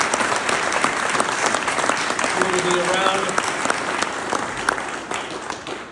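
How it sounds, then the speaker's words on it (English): Audience applause for the candidates at a Kirkland City Council candidate forum: a dense, steady wash of clapping that tapers slightly toward the end, with someone speaking over it. "a special thank you and a round of applause for all of our candidates"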